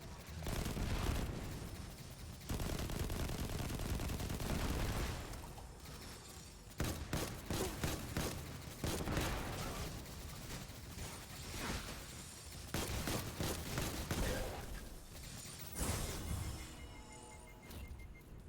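Gunfire in Destiny 2 on PS4 rattles in rapid volleys and bursts over a dense battle mix with game voices, faint overall but continuous, with repeated sharp shots through the fight.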